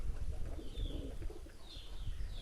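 Paired pigeons coo softly at close range, a few low, throaty murmurs over faint background rumble, with a couple of brief higher chirps mixed in.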